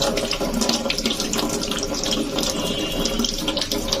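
Kitchen tap water running steadily into a sink while a potato is rinsed by hand, a loud continuous close splashing stream with small irregular spatters throughout.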